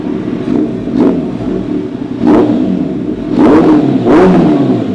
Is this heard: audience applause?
no